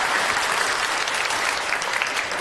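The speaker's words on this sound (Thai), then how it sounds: "ขอเสียงปรบมืออีกครั้งครับ" An audience at a government training drill applauds the trainer, a thick, continuous roar of clapping from a large crowd, loud and steady throughout.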